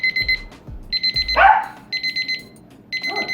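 An electronic kitchen timer beeps in rapid repeated bursts while making pizza dough, pausing between groups, with a brief dog yip in the middle; close and fairly loud.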